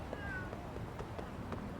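Cats in the video game Lost Judgment meow several times in quick succession, short rising cries close by over a constant ambient game bed.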